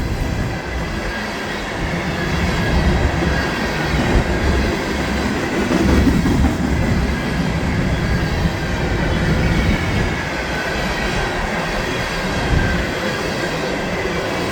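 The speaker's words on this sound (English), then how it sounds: "That's a long hopper train." A long Norfolk Southern hopper train led by two locomotives rolls past close by, with a steady, loud rumble of wagons and wheels running through the whole stretch.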